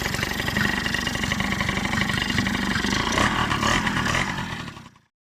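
An overhauled Yamaha L2GF motorcycle engine running at idle, a close, steady, buzzy two-stroke putter that carries on alone for several seconds before cutting out abruptly.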